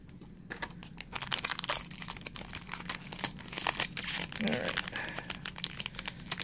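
A Weiss Schwarz trading card booster pack for Kemono Friends being torn open, with close, loud crinkling and ripping of the foil wrapper in bursts over several seconds. Faint talk is heard in the background.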